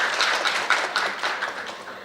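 Brief applause rises from a seminar audience welcoming a guest speaker at a session on e-commerce and cross-border data flow, a short burst of clapping that tapers off.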